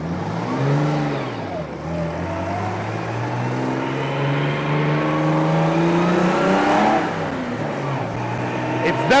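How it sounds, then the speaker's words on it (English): A pre-war race car's engine screams while driving, its loud rising and falling pitch climbing steadily as the car accelerates through the gears, heard close and continuous. "It's definitely interesting driving a pre-war machine, and the engine really screams."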